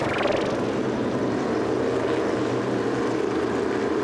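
A pack of 350 supermodified race cars roars on an oval speedway, engines blending into one loud, continuous howl that swells slightly as the field accelerates.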